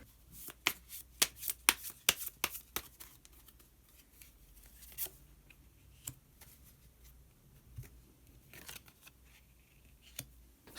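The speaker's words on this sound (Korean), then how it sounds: "그럼 카드 한 장을 더 뽑고 이야기 계속 나오도록 하겠습니다." Tarot cards being handled and drawn from the deck, with quick papery snaps and flicks, close and soft, clustered early and then scattered more sparsely.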